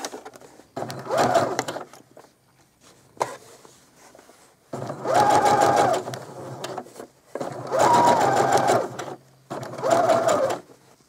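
Sewing machine stitching a seam to hold small pleats on a child's apron, four loud bursts of rapid mechanical whirring separated by short quiet pauses.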